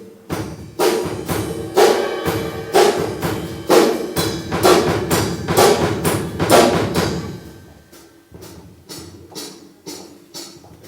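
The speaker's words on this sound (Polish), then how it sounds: "a Mariusz na tym zagra talerze. To jest hi-hat." Hi-hat cymbals, a pair of small clashing plates on a drum kit, played in a simple steady rhythm at a school music demonstration; regular bright strikes with a drum-like thump underneath, fading toward the end.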